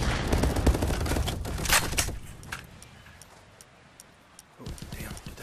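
Gunfire in the VR shooter Contractors VR, a burst of rapid shots in the first two seconds, then quieter sporadic sounds and one more short burst near the end, with no talk.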